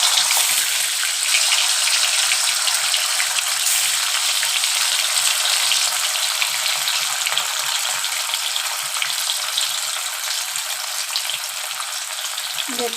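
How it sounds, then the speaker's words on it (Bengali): Whole pieces of paneer frying in hot oil for an aloo paneer dish, a steady loud close sizzle and crackle that continues unbroken throughout with no talking. "পনিরটা গোটা গোটা ভেজে নিয়ে"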